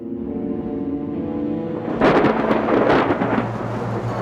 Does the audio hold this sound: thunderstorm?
yes